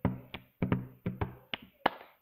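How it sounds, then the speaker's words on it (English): A rhythmic pattern of hand slaps, finger snaps and claps, about eight crisp close hits in a bouncing repeated groove, clear and alone. "So you do boom, snap, clap, ba-boom, snap."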